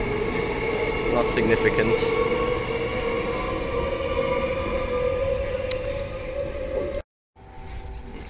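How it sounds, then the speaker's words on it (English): A passenger train bound for High Wycombe runs past a station platform with a sustained loud rumble and a tonal whine, brief squeals early on, then a short cut in the sound; a voice speaks faintly underneath. "There goes the High Wycombe train."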